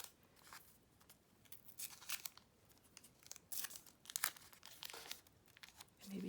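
Washi tape or paper torn by hand at a craft table, a quiet run of soft ripping and crinkling bursts in irregular rhythm, close up and alone.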